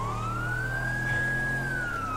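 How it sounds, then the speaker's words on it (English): A police car siren in GTA 5 sweeps slowly up and falls back in one long wail over a steady low engine drone, heard from inside a vehicle on patrol in the city; no talking. "You hear a siren, just move."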